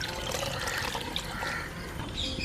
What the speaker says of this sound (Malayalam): ഇനി നമ്മൾ ഇതിലേക്ക് ആവശ്യത്തിന് വെള്ളം ഒഴിക്കുക